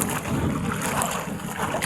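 Strong wind buffeting the microphone outdoors by the sea with waves, a loud continuous rumbling roar with gusty swells.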